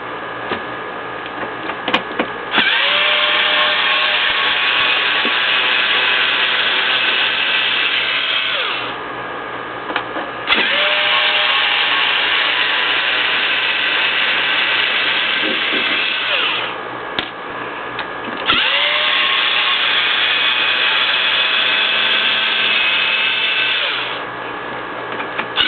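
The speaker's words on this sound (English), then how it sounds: "swap back over to your T15, because when you flip it over, well, you'll have 4 screws here to take out" A power driver with a T15 bit backs screws out of the front bumper of an RC truck, a Traxxas Slash 2WD, in three long steady whirring runs separated by short pauses, close and loud with no talk.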